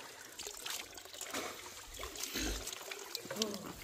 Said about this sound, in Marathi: अरे गरम पाणी येतंय खरंच